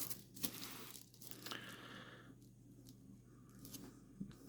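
Plastic blister packaging crinkles, tears and crackles as a Grand Saber figure is unwrapped, with intermittent close, quiet bursts of handling noise and brief pauses, and no talking.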